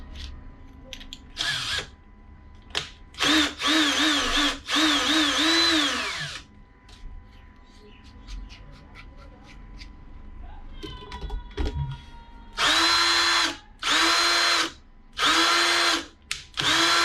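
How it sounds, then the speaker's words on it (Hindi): An AEG cordless drill running in hammer mode, several loud whirring bursts of a few seconds each, starting and stopping with short pauses and faint clicks between them. "तो अभी मैंने इसके ऊपर हैमर पर रखा है और इसके ऊपर एक ड्रिल करके देख लेते हैं।"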